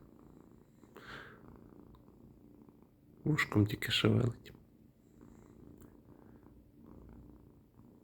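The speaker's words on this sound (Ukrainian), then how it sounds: "І мурчить." Soft, steady purring from a nearby cat runs low under the whole clip, while a person speaks briefly through the middle.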